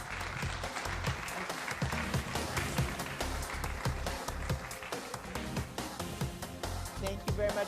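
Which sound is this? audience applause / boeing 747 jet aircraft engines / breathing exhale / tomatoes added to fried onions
audience applause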